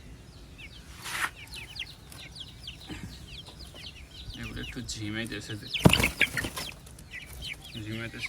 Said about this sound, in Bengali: এখানে আছে 2-3টা মুরগি।